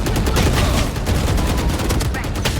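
Rapid bursts of gunfire in a VALORANT Team Deathmatch round, loud and continuous across the whole moment with dense crackling shots, voices faintly mixed underneath.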